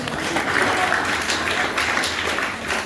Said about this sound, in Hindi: आइए ताली मारने का हालेलुया